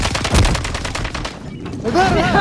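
Rapid bursts of gunfire in the video game Call of Duty: Warzone II, a dense rattling volley that thins out midway, with voices talking over the shooting.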